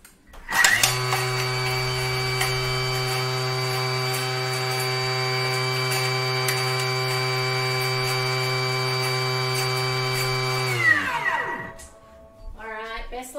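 A kitchen mixer whips a feta dressing at speed 9, a loud steady motor whine holding an even pitch for about ten seconds before cutting off, followed by brief faint clatter.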